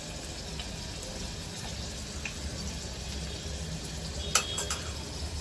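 Whole spices such as bay leaves and cardamom sizzle steadily in hot oil in a pan while being stirred for Marathi-style dum aloo, a continuous soft frying hiss with faint scraping and one brief clink near the end.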